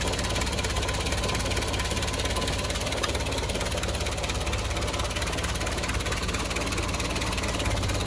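A Land Rover Series 1 80-inch with a 2.0 engine idles steadily with choke on, a close, even, continuous mechanical chatter with a light rhythmic tick throughout.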